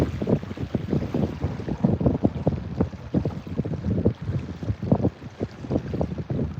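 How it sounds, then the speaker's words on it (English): Strong wind of about 20 miles an hour, gusting toward 35, buffets the microphone on the Wisconsin River, a loud continuous rumbling roar with surging gusts and no voices. "Right now we got about 20-mile-an-hour winds, gusts are going up to about 35."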